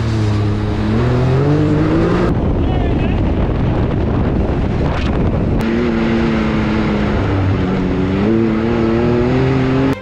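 A Can-Am Maverick X3 side-by-side revs hard at full throttle on hilly Kentucky trails, its engine note climbing in loud rising sweeps with a brief dip mid-run, close up and buffeted by heavy wind noise.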